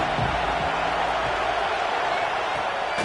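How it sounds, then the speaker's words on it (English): A stadium crowd in a college football video game roars as a steady, dense wash of noise, with a faint voice barely surfacing underneath. "This crowd ready to make its presence known"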